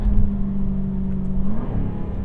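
Engine note of a 2023 Jaguar F-Type R Coupe, a steady low droning hum from inside the car that shifts pitch upward briefly near the end, with no talking.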